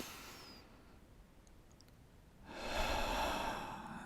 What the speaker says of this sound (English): And then take a nice and deep breath.